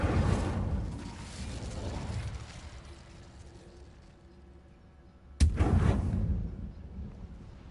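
Incendio fire spell cast in a Hogwarts video game near a Thestral nest: a sudden loud whooshing burst of flame erupts after a quieter stretch, then roars on and slowly fades.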